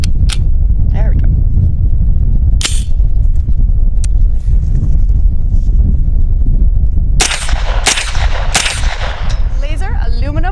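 A Sig P320 PCC carbine fires 115 grain full metal jacket steel-case rounds at a range, cracking loudly and close. The shots come singly, then in a quicker string near the end, over heavy low rumble and noise.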